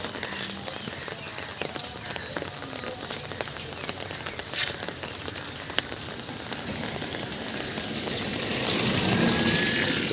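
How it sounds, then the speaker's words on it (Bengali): Steady monsoon rain patters onto surfaces beside a pond in a dense, continuous wash. The rain swells a little louder near the end, and no voices are heard. "সবে আষাঢ় মাসে থেকে শুরু হলো বৃষ্টি"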